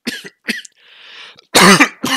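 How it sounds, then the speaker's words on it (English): Several harsh, close coughs in separate bursts, with a breathy throat-clearing rasp between them. "I've been dealing with a cough recently."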